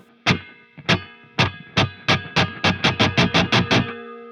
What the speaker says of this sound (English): And that is the sound of the strings ringing out here.